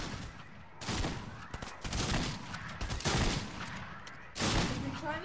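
Fortnite gunfire comes in several bursts of rapid shots, a fairly loud fusillade with short gaps between volleys, alongside faint game noise.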